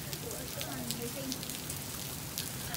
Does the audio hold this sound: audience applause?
no